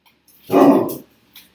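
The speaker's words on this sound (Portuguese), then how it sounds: "desculpas aí pelo latido da minha cadela" A single female dog bark, close and fairly loud, followed by a faint short sound, otherwise quiet.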